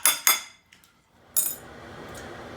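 A few sharp metallic clinks of a utensil against a bowl of ramen noodles with cheese ring out, followed by softer scraping and stirring.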